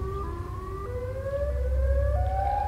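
Siren Head creature from a video game letting out a loud, steady civil-defense-style siren wail, with long sustained tones that slowly rise and shift in pitch over a deep rumble.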